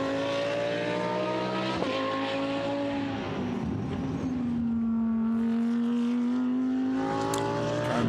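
A GT sports race car circling the Hungary circuit during free practice, its engine droning steadily in the distance with a shifting pitch as it passes, unbroken by any voice.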